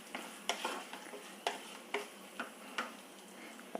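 Raisins fry in ghee in a pan with a soft background sizzle, punctuated by regular scraping stirs and clicks of a spatula, quiet and close.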